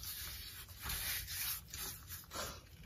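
Hands rub a curing mixture over a raw pork belly for homemade bacon, giving soft, continuous swishing and smearing strokes in waves, close and quiet, with no talk.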